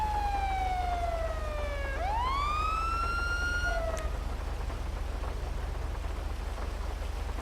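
A police car siren in a video game sweeps down and then back up in a single wailing cycle before cutting off, heard over a steady rain-like hiss and low rumble.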